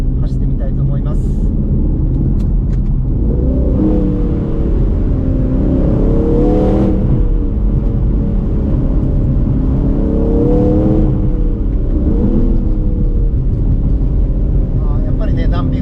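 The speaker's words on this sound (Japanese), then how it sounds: "デフォルトのスポーツモードから今度スポーツプラスモード変更して少し走ってみたいと思います。" Aston Martin Vantage Roadster driving along a winding road in Sport Plus mode, with a loud, steady engine drone that rises and falls as the revs change, and someone talking over it.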